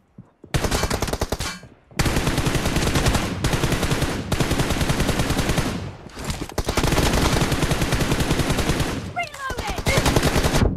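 Sustained heavy gunfire rakes the player in an online shooter, dense automatic bursts running almost without pause for ten seconds, broken by a few short gaps, loud and close.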